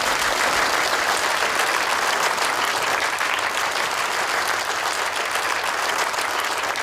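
Sustained applause from a crowd welcoming a company president at a group's 20th anniversary gala reception, steady dense clapping throughout, loud and unbroken with no voices on top.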